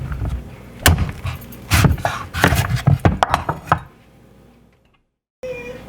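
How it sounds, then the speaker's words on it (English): A knife cuts through a buttercup squash on a board, giving a series of loud, uneven chopping thuds and cracks that stop abruptly, followed by near silence. "I cut it in half, as easy as it can be for me to chop, not to chop it, but to peel the skin."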